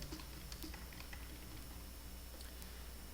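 Soft, rapid keystrokes patter on a computer keyboard while entering spreadsheet cells, a quiet run of light clicks over a low background hum.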